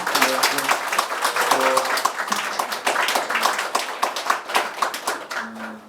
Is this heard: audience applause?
yes